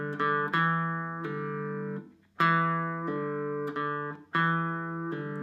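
Clean electric guitar pull-offs on a single string in a repeating picked-then-pulled pattern, each phrase ringing briefly before a short gap.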